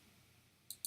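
Two crisp computer mouse clicks close together near the end of a quiet stretch, sharp and near, with no talk.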